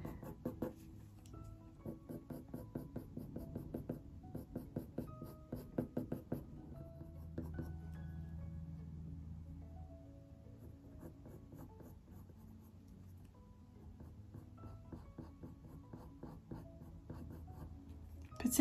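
Coloured pencil shades fur on paper for a harvest mouse drawing, a soft, quiet scratching of short rapid strokes in bursts, then longer smoother passes, close and alone.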